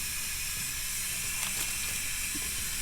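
Ninja Foodi pressure cooker doing a quick release: a loud, continuous hiss of steam jetting from the vent, steady and unbroken from start to finish, with faint small clicks underneath.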